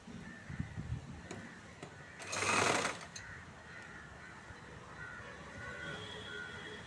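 A sewing machine stitching a chudithar sleeve whirs in one brief burst of under a second, close and clear against a quiet room.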